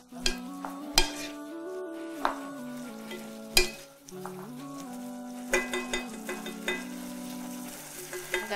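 Carrots and green beans cooking in a soup pot for Fonkaso sauce, with a soft sizzle, tonal hum, and several sharp clinks and scrapes as a spoon stirs against the pot.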